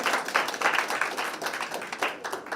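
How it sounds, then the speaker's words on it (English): An audience at a First Lady's event on protecting infants from HIV applauds in a brief, lively burst of mixed clapping that swells and dips, heard fairly close. "Let us give them a round of applause."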